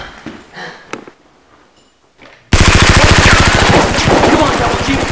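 A toy Nerf gun fires a rapid, loud burst of shots that starts suddenly and keeps going without a break, drowning out the quieter sounds that come before it.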